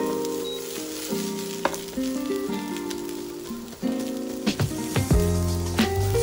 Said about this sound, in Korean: 양배추 볶아주세요.